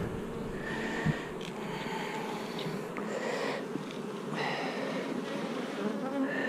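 Honey bees from the field force buzz steadily around a queenless hive, a dense, continuous drone of many insects close by with rising and falling swells.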